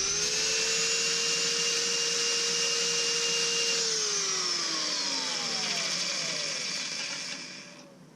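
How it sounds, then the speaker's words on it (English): A power sander smooths burrs off wood before a resin pour, a loud, steady motor whine that holds, then drops in pitch and fades as the tool winds down near the end. "Hit it with a sander, just take off some of those burrs."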